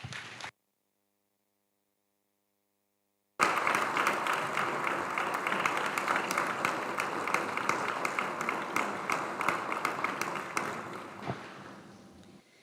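Audience applause for college-bound athletes at a school athletic awards ceremony starts after a brief gap of silence. The clapping is steady and sustained from the crowd, then fades out toward the end.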